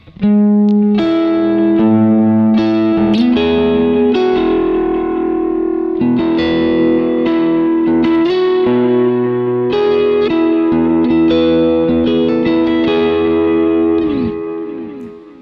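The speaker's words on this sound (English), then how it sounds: "So that is the delay" Distorted electric guitar chords through a Kemper delay effect ring out with repeating echoes trailing each strum, layered and sustained, loud and continuous throughout with no talking.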